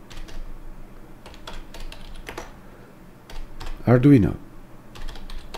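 Typing a terminal command on a computer keyboard, a Raspberry Pi setup, with close, crisp key clicks in quick irregular runs and someone speaking briefly partway through.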